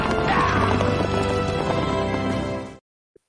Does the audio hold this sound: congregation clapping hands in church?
no